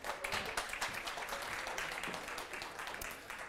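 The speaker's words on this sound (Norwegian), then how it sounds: "Gi en applaus!" An audience at a research lecture event gives a short round of applause after a speaker is introduced. The clapping is steady and fairly faint, as if heard from across a hall, with a few voices faintly underneath.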